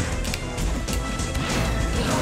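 A burst of loud video game forward smash attacks, crunchy smashing hits and whacks piling up in quick succession over a noisy game soundtrack.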